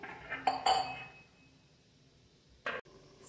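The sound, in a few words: covering the pot while cooking boiled chicken curry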